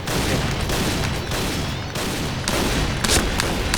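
Shotgun fire in PUBG, a series of loud booming blasts repeating every half second or so, close and dominant with no talking over it.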